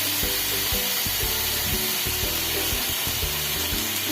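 Cauliflower pieces fry in hot oil with salt and turmeric, giving a steady broadband sizzle with soft low knocks of stirring underneath, continuous and close throughout.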